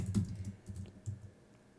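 Soft clicking keystrokes on a computer keyboard as a search term is typed, a short irregular burst of taps heard close and alone.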